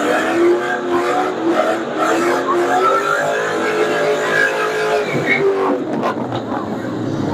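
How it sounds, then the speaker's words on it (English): A 1998 Ford Mustang Cobra does a second-gear launch and burnout, its engine roaring loud and close with rising revs and tire-spin noise sustained throughout, easing near the end. "This time I decided to give it a legitimate second gear hole shot and burnout."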